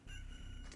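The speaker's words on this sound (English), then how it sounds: "Hey, look at that. You hear the rooster crow?" A rooster crows in a video game, a short, faint synthesized call over a constant low hum.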